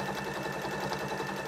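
A sewing machine runs steadily, stitching fabric with wadding facing up, a continuous close mechanical whir and rapid stitching patter at even level throughout.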